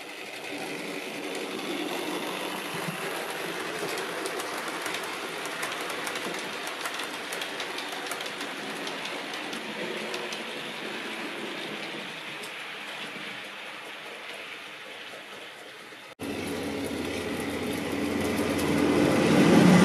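A Bachmann LNER L1 model tank engine runs laps on a garage layout, giving a steady, slightly jerky whirring and rail clatter that holds evenly throughout, then swells louder near the end as the locomotive comes closer.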